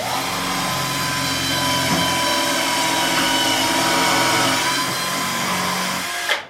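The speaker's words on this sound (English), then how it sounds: "And it clamped, which means that it went through both of the discs, destroying that hard drive." A hard drive destroyer presses down on a hard drive with a steady, close motor drone. The drone ends in a brief clunk as the clamp goes through the platters.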